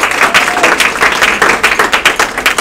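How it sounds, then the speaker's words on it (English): Audience applause for the speakers at a boot camp event, a steady wash of many hands clapping at close range, continuous for the full length with no voices over it. "let's give our speakers here a round of applause"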